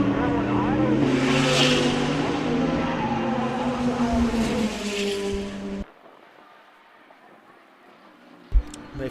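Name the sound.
race cars driving and skidding at an extreme festival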